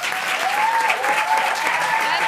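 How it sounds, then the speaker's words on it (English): An audience claps for election candidates at a Surrey question time event, a steady, dense round of applause sustained throughout, with a faint tonal whine running underneath. "Let's just have a round of applause for our candidates"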